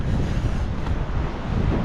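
Wind blowing hard across a remote, cold beach, a loud continuous buffeting rumble on the microphone with no voices.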